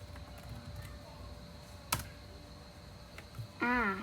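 Text being typed on a computer keyboard, sparse light key clicks with a sharper tap near the middle, over quiet room hum, ending with a brief tonal chirp.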